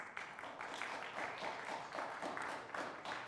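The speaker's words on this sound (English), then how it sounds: "That's worth a big round of applause." Applause from a studio audience on a quiz show after a lightning round, a moderate steady patter of many hands with slight swells, fairly close and with no talking over it.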